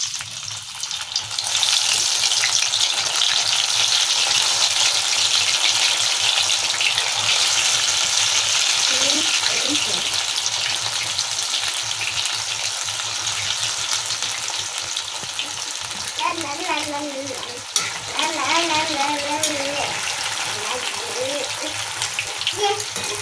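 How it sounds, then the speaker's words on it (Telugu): Okra (lady finger) deep frying in a generous amount of hot oil, a loud, steady sizzle and crackle throughout with brief stirring clinks near the end. "ఇప్పుడు నేను బెండకాయలు వేస్తున్నాను"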